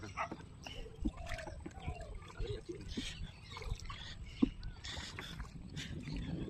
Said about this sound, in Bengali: এখন নৌকা চালাবে